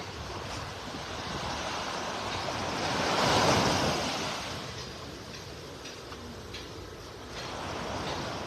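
Ocean surf washes steadily onto a beach in North Naples, Florida, a continuous broad wash that swells to a louder crest midway before easing, with light wind noise and no voices.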